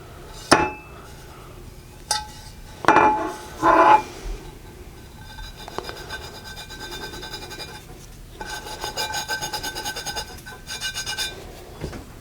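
A Lodge rust eraser is pressed hard and rubbed against a cast iron pan, making short gritty scrubbing strokes with a few sharp knocks, then a longer stretch of rapid rasping friction, close-up with no voices.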